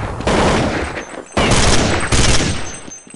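Counter-Strike 1.6 gunfire: dense, loud bursts of rapid shots in two long stretches split by a brief pause, close and harsh with no talking.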